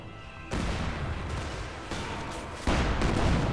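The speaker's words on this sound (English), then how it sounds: "field gun firing" Field gun firing in the Company of Heroes 2 strategy game, with loud, dense battle noise and three heavy blasts that set in abruptly and sustain, with no pauses between them.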